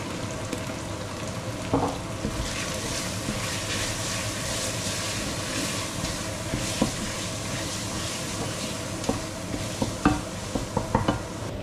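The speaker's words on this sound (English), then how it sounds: "So then I'll mix everything together." A spoon stirs ingredients for a pumpkin dish together, giving a steady, continuous scraping and sloshing with a faint sizzle-like texture throughout and a few sharper clinks near the end, with no talking.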